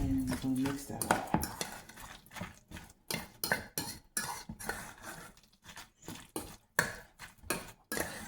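A utensil stirs basil, dill and margarine in a dish, making a steady run of clinking, scraping taps against the bowl, about a dozen distinct strokes at close range, with a voice speaking faintly at the start.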